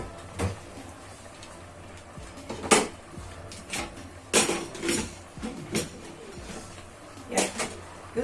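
Pot lids and cookware clank and clatter in a home kitchen during batch cooking, several separate metallic knocks and scrapes spread out over a few seconds, moderately close with quiet gaps between.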